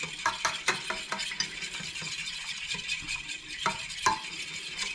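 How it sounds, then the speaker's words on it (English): Golden milk paste is stirred in a pan over medium heat, with a steady scraping and clinking of the utensil against the metal and a faint sizzle underneath, close by and without speech. "So you stir it up,"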